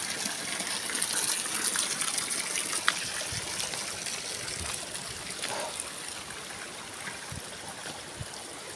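Clear stream water at Camp Bravo in Cidahu, Sukabumi, rushing and gushing steadily up close, a continuous bright wash with occasional splashes and no voices over it.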